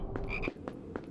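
Frog croaking in the Harry Potter and the Philosopher's Stone game for PS2, with a few quick, close croaks in an uneven rhythm over soft game ambience.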